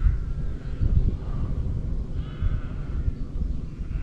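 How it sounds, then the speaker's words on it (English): Sheep and young lambs bleat faintly from a distant field in lambing season, nearly buried under heavy low wind rumble across the microphone outdoors. "Yeah, lots of young lambs over there."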